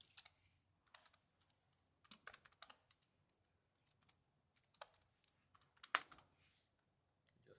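Username and password being typed on a computer keyboard while setting up Cisco Mobility Express, with quiet, irregular bursts of key clicks that speed up and slow down, and no one talking.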